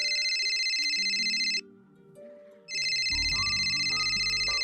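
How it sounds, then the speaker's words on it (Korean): A phone ringtone sound effect played as a QLab theatre cue chimes in a bright repeating pattern, pauses briefly, then resumes over low rumbling background music. "벨소리가 시작"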